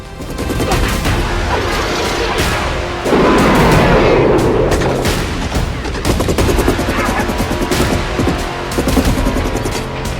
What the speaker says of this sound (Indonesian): non-stop aksi, ledakan di mana-mana, dan peluru yang sepertinya tidak ada habis-habisnya